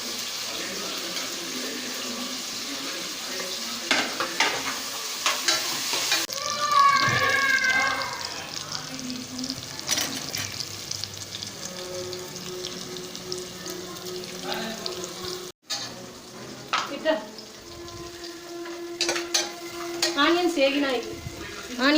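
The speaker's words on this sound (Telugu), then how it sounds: "ఆనియన్స్ 2 పచ్చిమిర్చి వేస్తున్నాను." Chopped onions and green chillies fry and get stirred in a pan while making chicken dum biryani, with steady sizzling, scraping spatula clicks and some water sounds throughout as someone talks over it.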